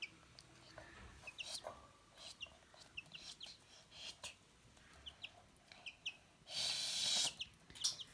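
Small chicks chirp and peep in quick, high bursts, close by and fairly faint, while playing with a hamster, with a longer noisy rustle partway through.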